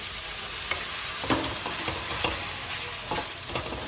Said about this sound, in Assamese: গোটেইখিনি পেষ্ট এতিয়া মিলাই ললোঁ